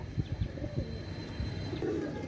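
Pigeons softly cooing at close range, low rolling coos repeating in short bursts with a faint chirp or two.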